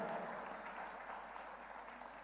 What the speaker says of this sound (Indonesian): Kasih tepuk tangan yang meriah untuk Tuhan.